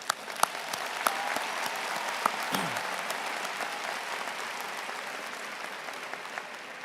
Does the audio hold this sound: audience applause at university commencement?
yes